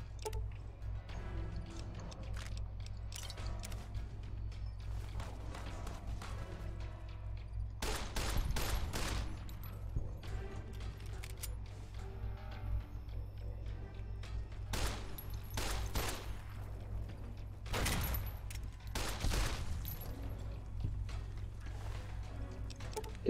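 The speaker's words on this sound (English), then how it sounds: "Good laser rifle." Laser rifle fire in Fallout: New Vegas, with several separate bursts of rapid zapping shots spaced over a low, steady background hum, fairly quiet overall.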